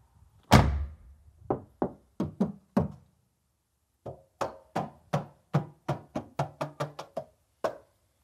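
Knuckles rap on a bare, uninsulated sheet-metal body panel of a cheap electric car: one loud hollow knock, four quick taps, a pause, then a longer run of about ten evenly spaced metallic knocks, close and alone.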